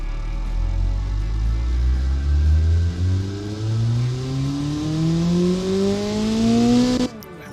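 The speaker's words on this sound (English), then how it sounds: "So go back to here, we can run our engine through on a dyno again." Simulated engine in the game Automation revving up on a dyno, a loud continuous tone climbing steadily in pitch over about seven seconds before cutting off abruptly, with no voices.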